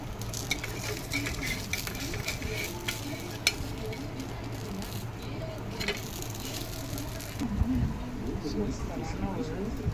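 Continuous sizzling of dosa batter made with vallarai (brahmi) leaves frying in hot oil, with occasional scraping and stirring sounds, close up and steady throughout.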